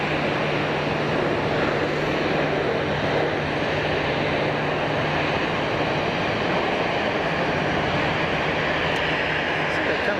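An Embraer jet roars through its takeoff run at Geneva Airport, a loud, steady broadband engine rumble and rush filling the whole stretch, with a faint voice underneath.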